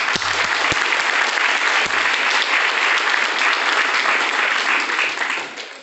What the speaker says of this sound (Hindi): इसके एमडी मिस्टर संजीव सर के लिए एक बार जोरदार ताली हो जाए